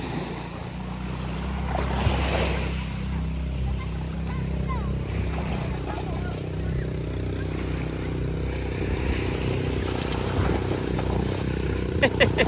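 Rough sea surf at a beach gives a steady low wash and roar of waves with wind, while people talk over it.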